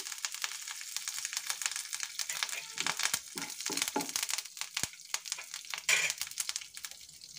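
Curry leaves spit and crackle in hot oil for mango pickle: loud, close popping bursts over a continuous sizzle, with irregular rapid snaps throughout.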